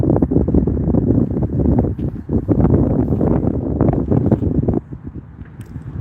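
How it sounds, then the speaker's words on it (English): Gusty wind buffets the microphone outdoors at a par 3 golf course in California City, a loud rumbling roar that swells and dips for several seconds before easing off. "it's always kind of windy"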